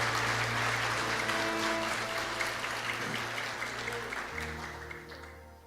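Church congregation clapping and applauding steadily during a worship service, a dense wash of hands with sustained organ or keyboard chords underneath, gradually fading toward the end.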